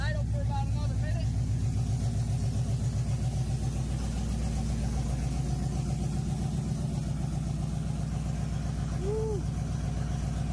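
A car engine with a blown head gasket and misfire idles loudly and steadily, its low throbbing rumble constant throughout, with a faint high chirp briefly heard partway through.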